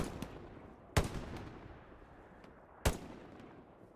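Gunfire in a video game battle: two sharp, heavy shots about two seconds apart, each with a short rumbling tail, and a few fainter distant pops in between, no voices.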